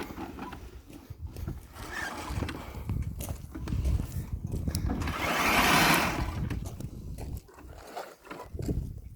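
Ozito PXC 18V 380mm cordless cylinder lawn mower, modified to self-propel, with its wheel spinning in wet muddy soil, giving a steady churning whir that swells loudly in the middle and then eases off.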